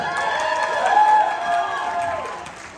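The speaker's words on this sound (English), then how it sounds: "Can we give the bride a big round of applause?" Wedding guests applaud and cheer for the bride, a sustained wash of clapping and crowd noise that swells in the middle and fades toward the end.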